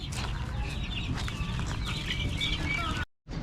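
Rhode Island Red chicks cluck and cheep in a dense, continuous flock chatter close by, with a brief dropout to silence near the end.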